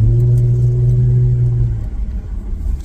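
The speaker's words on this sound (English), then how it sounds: "You want to hear the exhaust, right?" Lexus GS350 with an axle-back exhaust driving through a subdivision, a steady low engine drone that fades into rumbling road noise, loud and close with no talk.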